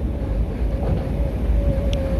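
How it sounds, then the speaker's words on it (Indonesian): A DF diesel locomotive pushes a rail-carrying work train from behind through a tunnel on a high-speed rail line near Jakarta, giving a loud, steady low rumble with a sustained tone and no talk. "Posisi pergerakan dari kereta kerja angkutan rel ini didorong oleh lokomotif DF, dan lokomotifnya tentu saja di belakang."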